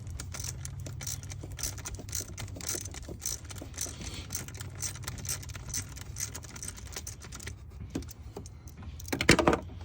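Socket wrench ratcheting as it loosens a screw on the blow-off valve of a 2022 Ford Bronco, a steady run of close, rapid metallic clicks lasting throughout, with a louder clatter near the end.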